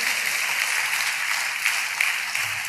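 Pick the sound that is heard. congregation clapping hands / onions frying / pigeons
congregation clapping hands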